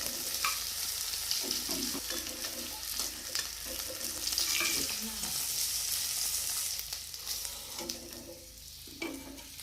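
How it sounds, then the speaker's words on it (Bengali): Steady hiss and crackle of catla fish frying in hot oil, with occasional scraping and clinks from a spatula in the pan; no talking. "আমার মাছটা ভাজা হয়ে গেছে, আমি এখন তুলে নেব।"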